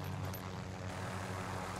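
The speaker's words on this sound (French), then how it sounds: "Ah, mais c'est un hélico!" Helicopter in a shooter video game, a steady low rotor-and-engine drone held close and loud for the whole stretch, with no talk over it.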